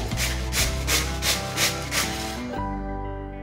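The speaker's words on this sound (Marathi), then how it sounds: "आणि किसणीच्या साहाय्याने कैरी किसून घ्यायची।" Raw mango being grated by hand on a kitchen grater, a run of about eight rhythmic rasping strokes, close and fairly loud, before the scraping stops near the end.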